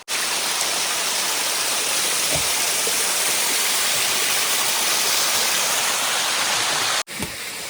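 Chitimtim waterfall in the hills of Meghalaya, water sliding down rock in a loud, steady, broadband rush that fills the whole stretch, with a brief dropout near the end.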